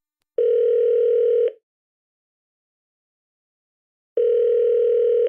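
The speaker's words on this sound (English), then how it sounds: "for the very first call on my Schell phone, I decided to call up the queen, Miss Daniela Dib" A telephone ringback tone sounds while a call is placed: two identical steady electronic tone bursts about a second long, separated by a long silence, clear and close.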